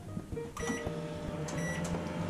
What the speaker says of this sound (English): Put the chocolate in the microwave to melt for about 40 seconds.